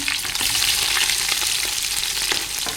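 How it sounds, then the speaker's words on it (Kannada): Green chillies, onion, ginger and mustard seeds frying in hot oil in a pan, a steady close hiss of sizzling with faint scrapes of stirring throughout, no voices. "ಇವಾಗ ಅದು ಫ್ರೈ ಮಾಡ್ಕೊಳ್ಬೇಕು ಚೆನ್ನಾಗಿ ಫ್ರೈ ಮಾಡ್ಕೊಳ್ತೇನೆ ಸ್ವಲ್ಪ ಕಲರ್ ಚೇಂಜ್ ಆಗಲಿ ಅಲ್ಲಿವರೆಗೆ ಫ್ರೈ ಮಾಡುವ"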